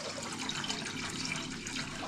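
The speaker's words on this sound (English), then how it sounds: "I've got some spring water here and I'm going to put it in this saucepan" Spring water pours steadily into a saucepan in a home kitchen, a soft continuous splashing rush lasting a couple of seconds with no talking.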